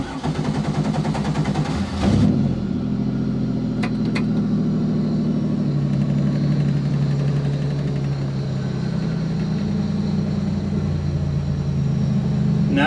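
A race car engine cranks and fires at about two seconds, then settles into a loud, steady, throbbing idle that runs close and uninterrupted to the end.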